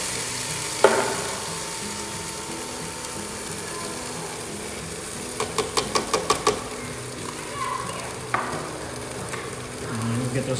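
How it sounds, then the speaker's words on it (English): Crushed tomatoes and herbs hit a hot pan and set off a steady sizzle and frying hiss. A quick run of clicking taps sits in the middle, and faint voices are heard now and then. "I'm just gonna add my tomatoes and my herbs."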